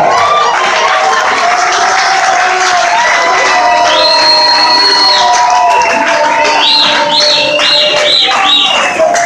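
An audience at a wedding celebration claps and cheers loudly and continuously, with raised voices and high, wavering calls riding over the crowd noise.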